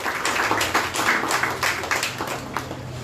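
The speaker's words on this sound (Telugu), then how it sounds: "చప్పట్లు పెట్టండి గట్టిగా" Applause ripples through a church congregation at a Sunday service, a dense patter of many hands clapping steadily for a few seconds.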